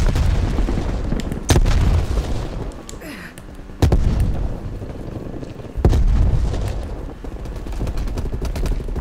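Grenades and heavy booms go off in a Call of Duty: Black Ops Cold War multiplayer match, with three or four loud blasts and sustained rumbling battle noise between them.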